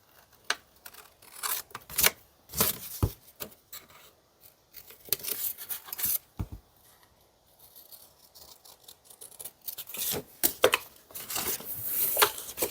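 Scissors snipping out paper pieces for a handmade craft card: a close, quiet series of irregular short cuts and paper rustles with brief pauses between them, and no talking.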